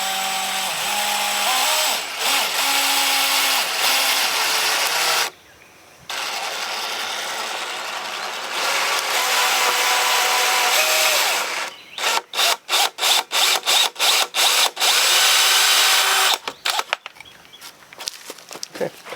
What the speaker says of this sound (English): set the drill bit right in the center and make sure it's perfectly vertical